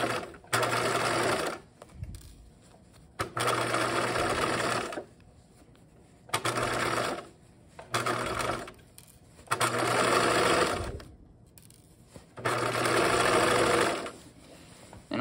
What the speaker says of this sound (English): I'm just going to run a stitch all the way along this bag.